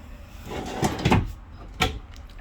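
Drawers in a 2022 Keystone Sprinter 30RL travel trailer are slid and shut, giving three short knocks and thuds close by with brief sliding rumbles between them and no talk.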